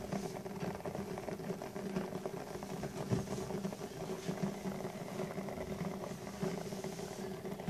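An Evenflo baby bottle warmer heats water with a steady bubbling, hissing rumble, faint and continuous with small irregular pops, close by and without talk.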